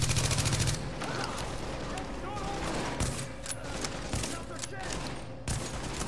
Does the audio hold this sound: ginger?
no